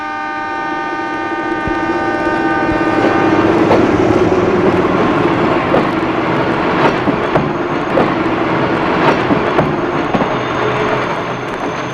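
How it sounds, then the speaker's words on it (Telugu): A train pulling in, a loud sustained rumble with a long horn-like drone that fades into repeated rhythmic clacks of wheels over rail joints, close and continuous throughout. "అన్నయ్య ట్రైన్ వస్తుంది."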